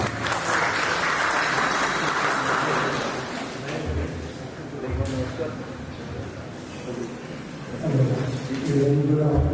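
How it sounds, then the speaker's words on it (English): Audience applause welcoming a speaker at an agricultural seminar on palm oil, a steady broad clatter of many hands that fades slightly midway, with talking coming through near the end. "Please give him a big round of applause."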